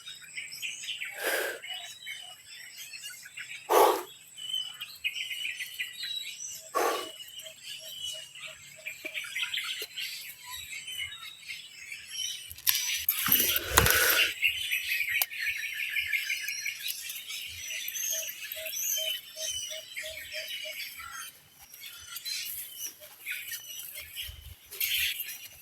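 A crow caws harshly and repeatedly, several loud caws spaced a few seconds apart, over a background of softer chirping and insect buzz.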